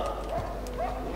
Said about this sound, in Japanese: 犬だ、犬が来てる。